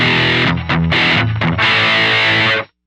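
An electric guitar through a DS-1 distortion model on a ZOOM MS-50G multi-effects pedal plays loud sustained chords with a few short breaks, then cuts off abruptly near the end.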